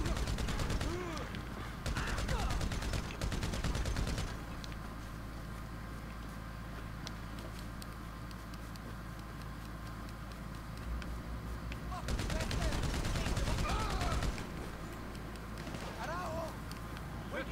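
Gunfire in the Grand Theft Auto V video game: rapid bursts of automatic shots crackle in two dense spells, with quieter game noise and an occasional voice between them.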